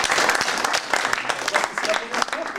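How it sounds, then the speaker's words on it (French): Audience applause at a book signing event, a dense spread of claps with voices mixed in throughout, fairly close and steady. "Ben, on peut l'applaudir."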